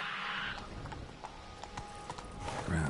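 Horse hooves in the Fallout 4 video game, a quick series of sharp clip-clop beats at a steady trotting rhythm, near and fairly quiet, with a brief faint sound over them.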